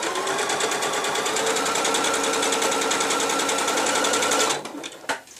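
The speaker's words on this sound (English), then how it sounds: "Sew down to the second mark, back tack, and then change my stitch down to the smaller length again." A sewing machine stitches a zip into a cushion: a steady, loud mechanical whir running close for several seconds, then stopping with a few short clicks at the end.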